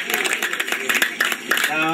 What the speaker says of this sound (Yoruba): Ẹ jẹ́ ká pàtẹ́wọ́ fún Jésù